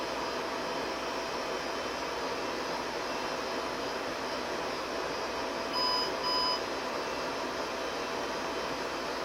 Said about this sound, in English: Why did it beep twice?